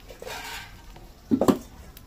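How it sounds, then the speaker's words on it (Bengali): Metal wok for a Bengali yogurt-eggplant curry set back onto the stove, giving a couple of short clanks and scrapes close by after a quiet stretch of kitchen noise. "এবার আমি এদিকে কড়াইটা নামিয়ে রেখেছিলাম, কড়াইটাকে তুলে দেবো।"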